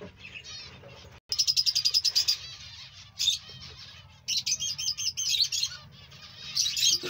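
Finches in a breeding colony of about 35 pairs chirp in quick, bright bursts of rapid repeated notes with short pauses between them, close and clear, with no voices.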